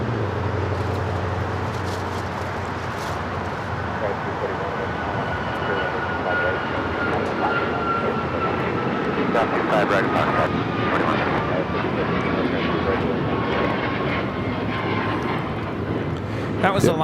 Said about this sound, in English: was Alaska 1412 taking off to Liberia on the MAX 9